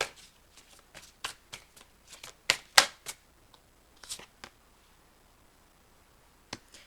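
Tarot cards being shuffled to draw a clarification card: a run of quick riffling flicks and soft slaps, close and clear, bunching into bursts with short pauses and trailing off to a few isolated snaps.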